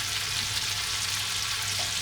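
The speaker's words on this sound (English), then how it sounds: "As you can see, the butter is all melting" Butter melts in a hot pan for butter chicken with a steady, even sizzle and crackle that holds close and constant throughout, with no voices.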